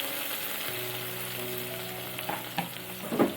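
Finely chopped onion dropped into a hot pan with curry leaves, giving a steady, even sizzle throughout with a few soft clinks and stirring scrapes near the end, close up and with no voices.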